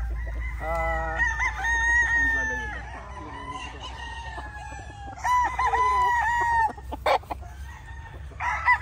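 Gamefowl roosters at a game farm, several loud crows in sequence with clucking in between, close by over a low background hum.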